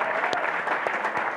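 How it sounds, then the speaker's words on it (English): Applause from the audience at a talk event in France, a steady dense clapping of many hands filling the room, close and continuous for a short stretch, with faint voices beneath. "je voudrais qu'on applaudisse beaucoup"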